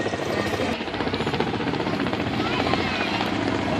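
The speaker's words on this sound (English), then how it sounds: "Bearing in front of us is the Kamo 28 helicopter" A Kamov Ka-28 naval helicopter flies close by, its rotor beating in a loud, steady chop, while an announcer speaks over a public address system.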